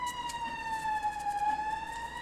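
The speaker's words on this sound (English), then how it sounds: "A lot of sirens." Sirens wail faintly in the distance, a sustained rising and falling tone over a soft hiss of background noise, with no talking.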